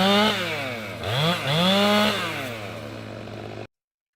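A chainsaw trims branches off a tree during tree removal work, its engine loud and close, revving up and down in rising and falling sweeps before cutting off abruptly near the end.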